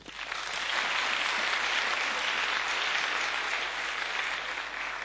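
Hall audience breaking into applause, building quickly to a sustained, even roar of clapping that holds steady to the end.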